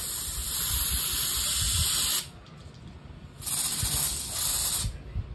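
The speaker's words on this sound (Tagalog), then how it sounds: "Panlinis sa sapatos. Spray mo lang." Rexco shoe cleaner sprays in two long hissing bursts, close and loud, the first lasting about two seconds, then a short pause before the second.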